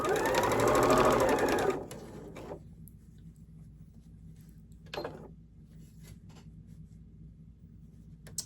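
A sewing machine stitches across quilt block seams in a short, dense, steady burst up close, then stops, leaving a quiet room with a faint brief rattle a few seconds later.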